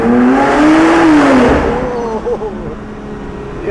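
A Gemballa Avalanche 650 Roadster GTR EVO-R's exhaust revs hard and echoes in an enclosed tunnel, the engine note rising then falling away with crackles as it lifts off.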